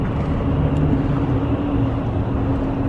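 Engine of a manual Toyota Supra turbo, jump-started from a second battery with glow plugs, running as a steady, loud, close rumble with a constant low drone throughout.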